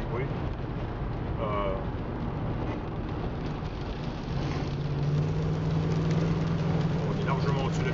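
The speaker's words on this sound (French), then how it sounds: "On accélère, on entend le bruit du moteur qui réagit bien" A car's engine pulls under acceleration on a rain-soaked road, a steady low drone with tyre hiss and spray, the engine note rising and firming near the end while people talk over it.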